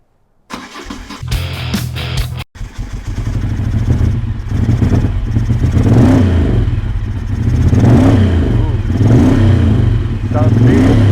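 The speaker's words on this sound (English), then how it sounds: "That's a sweet sounding bike." A Ducati or Moto Guzzi motorcycle engine cranks and fires, then settles into a loud, steady idle with repeated rising revs, close to the microphone and continuing throughout.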